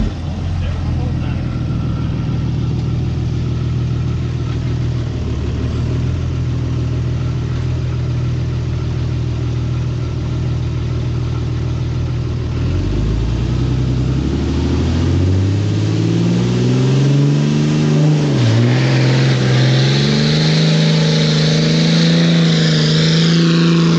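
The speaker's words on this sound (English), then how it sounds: "This is a crew cab long bed Dodge doing 5-gear burnout." A crew cab long bed Dodge pickup drones loudly through a 5-gear burnout, its engine climbing and revving harder toward the end, with voices talking over it.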